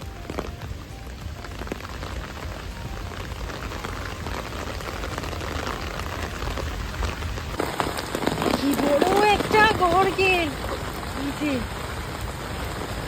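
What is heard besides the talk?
rain and wind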